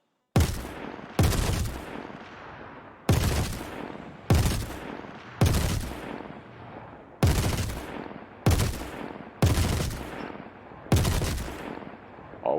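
Behring FS9 light machine gun firing in Star Citizen, with about ten short sharp bursts spaced roughly a second apart, each loud and cut off abruptly with a brief decaying tail, and no voices.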